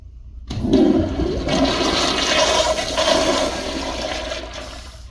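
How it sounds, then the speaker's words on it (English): A 1.6-gallon American Standard toilet from the 1990s–2000s flushes with a loud rushing swirl of water that starts abruptly, holds steady, then slowly tapers off. "I like how the startup sounds like a siphonic toilet"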